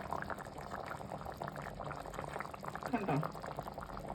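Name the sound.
fish curry simmering in a pan on low flame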